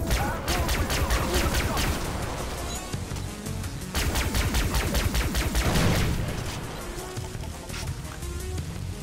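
Rapid gunfire from a retro-futuristic shooter, Far Cry 3 Blood Dragon, rattling in dense sustained bursts with heavy impacts across the whole stretch, loud and close, with a pause near the middle before the shooting resumes.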